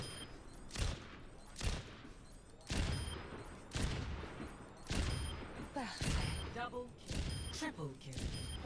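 Gunfire in the shooter game Overwatch, with a string of sharp, loud shots at uneven intervals, some in quick bursts. Each shot is followed by a ringing tail, and someone talks over them.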